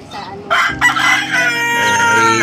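A rooster crows loudly and close by, a long strained call with other chickens clucking around it.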